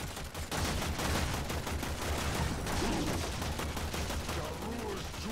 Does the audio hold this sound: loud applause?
no